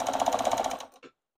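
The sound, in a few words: sewing machine zigzag stitching jersey fabric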